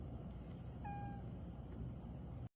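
A single short, quiet cat meow rising briefly over a steady low background hum, faint and somewhat distant.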